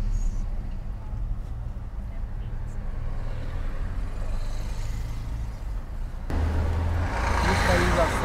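Heavy trucks and cars on highway BR-116 near Vitória da Conquista, Bahia, a constant roadway rumble and engine drone that swells louder toward the end as a large vehicle passes close by.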